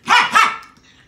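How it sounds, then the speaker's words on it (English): A Chihuahua mix dog gives two sharp, loud barks in quick succession, close by, followed by a short fading tail with no talking. "So get a Chihuahua. Or a Chihuahua mix, like this one."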